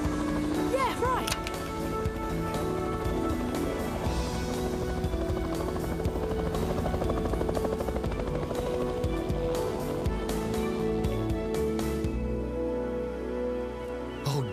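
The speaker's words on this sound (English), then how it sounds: "It's a helicopter." A cartoon helicopter flying, its steady rotor whir and engine hum running loudly throughout, with people talking and other cartoon sound effects layered over it.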